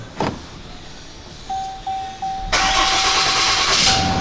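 A 2023 RAM 5500 Black Edition truck's engine starts after a few chimes and clicks, then settles into a loud, steady idle up close.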